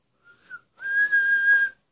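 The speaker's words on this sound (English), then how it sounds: "the whole game is controlled by whistling" A person whistles to steer a whistle-controlled Android game, first a short soft tone, then a longer steady clear note, close and alone.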